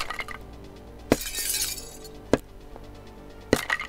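Glass shatters in the video game Rising World with three sharp crashes at spaced intervals, the middle one bright and sustained, over a low steady background hum.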